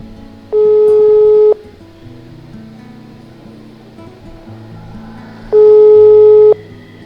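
A telephone call tone sounds as two long steady beeps, each about a second, separated by a few seconds of quiet low background, loud and clear.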